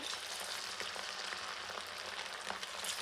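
Chicken pieces for chicken pakoda deep-frying in oil, a steady dense sizzle with crackling pops throughout, continuous and fairly close with no voices.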